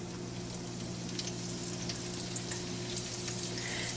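Taco stuffed egg rolls frying in a pan of shallow oil, a steady close sizzle with fine crackling pops running evenly throughout, no voices.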